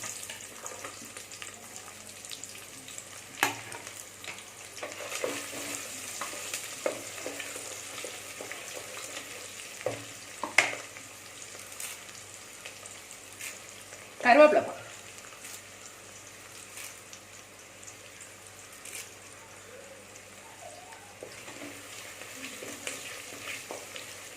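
Small onions fry with cinnamon, cloves and cardamom in a pan for mutton curry, a continuous close sizzle broken by scattered spatula scrapes and one louder clatter partway through, with no voices.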